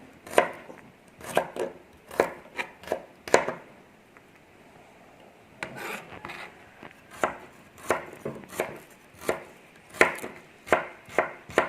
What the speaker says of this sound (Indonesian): setelah cabai bawang kita rajang-rajang